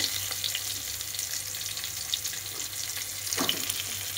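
Chopped bottle gourd and pointed gourd are stir-fried together in oil, giving a steady close sizzle with one brief stirring scrape near the end and no voices.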